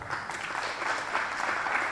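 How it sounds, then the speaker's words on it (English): Audience applause at an East African employability summit and career awards event: a steady, soft wash of many hands clapping, somewhat distant and continuous throughout. "I think that's a good place to clap."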